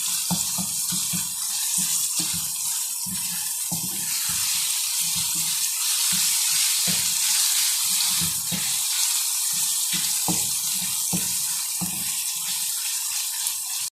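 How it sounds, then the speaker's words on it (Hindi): Tomatoes and masala fry in a pan for tinday curry, giving a constant loud sizzle with repeated soft scraping and stirring strokes throughout. "अब हम इसको 2-4 मिनट के लिए फ्राई करेंगे ताकि हमारे टमाटर सॉफ्ट हो जाएं।"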